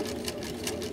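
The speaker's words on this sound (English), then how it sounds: "I do start with my back stitch again." A sewing machine back stitching a shirt placket, a close, steady mechanical whir with a quick rhythmic needle pulse, quiet and alone.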